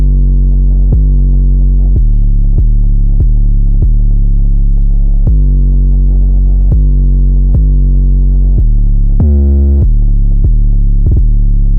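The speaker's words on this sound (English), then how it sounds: "super fat 808 with some like soft clipper on the master" Deep, fat 808 bass pattern in FL Studio with a soft clipper on the master, loud booming pulses hitting in a steady rhythm with sustained tails and a short pitched-up roll near the end.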